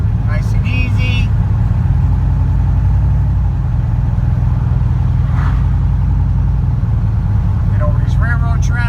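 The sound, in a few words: LSX-swapped GMC Canyon truck engine accelerating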